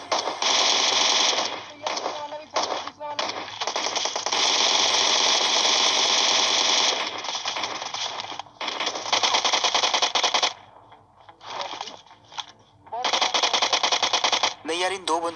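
Bots in a video game military base trade dense automatic gunfire in long loud bursts with brief gaps, while a voice talks over the shooting.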